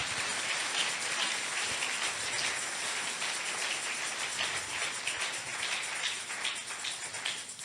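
A church congregation claps steadily for the Lord, producing a dense, continuous patter of many hands that sounds somewhat distant and soft, like rain on a surface.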